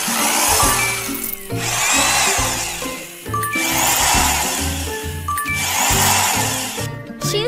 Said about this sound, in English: drill the holes.